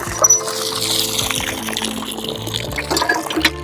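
Water from a borewell pump in a Godavari river island village pours steadily, splashing and gurgling in a continuous close stream over a faint mechanical hum.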